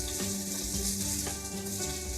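Chopped onion and butternut squash sizzle in a hot pan, a steady, close, bright frying hiss that carries on alone without a break.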